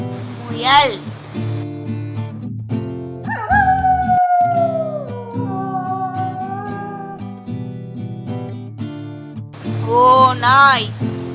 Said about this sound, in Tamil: ஓநாய்.